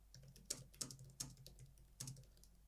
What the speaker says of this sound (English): go ahead and type anything here